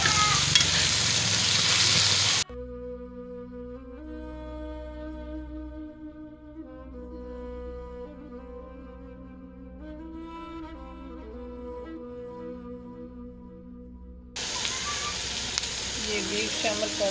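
Two medium onions are stirred and fried in a pan for a bitter gourd and beef curry. A loud, hissing sizzle opens and closes the passage, with quiet music and no frying sound in the long stretch between.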